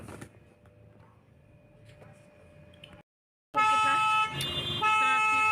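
Car horns honking in a traffic jam: about three seconds of low street rumble, a brief hush, then loud, overlapping sustained horn blasts close by.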